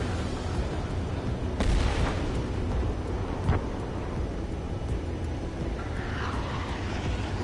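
Jet weapons fire and strike a target in a fighter-jet combat video game, a heavy rumbling roar with sharp bursts and booms layered over constant engine drone.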